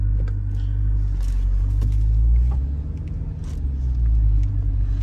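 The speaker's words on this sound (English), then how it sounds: "I'm gonna take it for a spin real quick." Jeep Trackhawk driven on a road: a loud, steady engine rumble from inside the cabin, swelling and easing slightly as it cruises.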